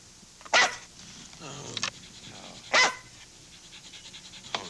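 A dog barks twice in a TV commercial, each bark sharp and loud and about two seconds apart, with quieter rustling and a muffled bark-like sound between them and another brief sound at the end.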